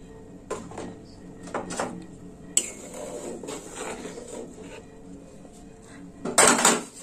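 A spoon knocks and clinks against a metal cooking pot as sweetener is added, producing scattered sharp metallic taps and scrapes with quiet gaps, ending in a louder rattling clatter.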